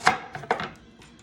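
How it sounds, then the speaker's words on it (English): A knife slicing onions on a cutting board, three or four crisp, close chopping knocks in quick succession, heard alone without voices. "what I'm doing right now is I am slicing my onions"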